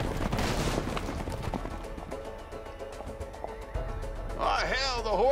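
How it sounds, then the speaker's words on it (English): Horses whinny and neigh amid clattering hooves and scattered bangs in the video game A Way Out, with a loud neigh near the end and people talking over it. "the horses are escaping"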